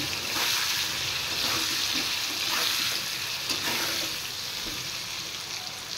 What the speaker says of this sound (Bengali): আমি আলু ফ্রাই করে নিচ্ছি